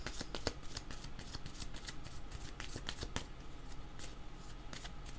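Playing cards are shuffled and drawn in a rapid series of crisp riffling flicks and snaps, close and continuous, with faint background noise and no voices.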